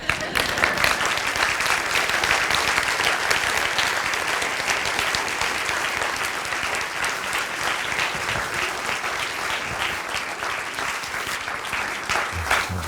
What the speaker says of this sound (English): you can give me a very big round of applause